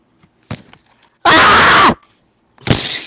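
A scream in the horror video game Cry of Fear: a loud, sustained cry of about three-quarters of a second, with a shorter burst of sound just before and another loud burst after.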